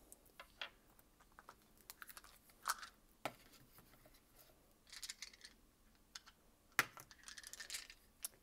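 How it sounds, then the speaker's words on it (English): Story cube dice and a ten-sided die are rolled and tossed onto a table, making scattered light clicks and rattling taps. The impacts come in irregular bursts, close and quiet, with no talk. "So I'm going to roll this 10-sided die to figure out how many dice we're rolling."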